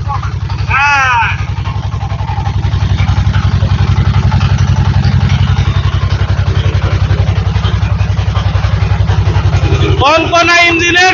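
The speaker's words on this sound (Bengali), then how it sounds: "ফাইন ইঞ্জিনের কটকটি সাউন্ড দেখতে থাকেন খালি" A brand-new Changchai/Sifang 20-25 hp diesel engine runs loud and close with a steady, rapid knocking chug, and voices speak briefly at the start and end.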